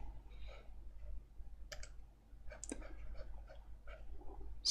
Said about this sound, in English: he's typing a long time.